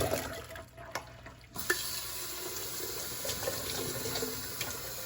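Tap water runs over tumbled Lake Superior rocks during a rinse, a steady, close rushing splash with a brief quieter dip near the start, then continuous flow with small clinks of stones and no talking.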